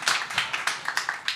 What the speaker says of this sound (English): Let's have a round of applause for this conversation so that you can all hear it.